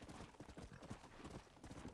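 Horse hooves galloping in a western video game, a fast steady clip-clop rhythm of hoofbeats, close and continuous, with faint sound beneath.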